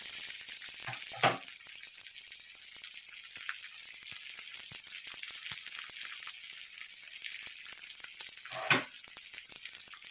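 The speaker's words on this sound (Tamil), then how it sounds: "இப்போ இது எல்லாத்தையும் சேர்த்து நல்லா வந்து வதக்கிக்கலாம்" Small onions and amaranth leaves sauté in a pan with a soft, even sizzle, broken by a couple of brief stirring scrapes, faint and close.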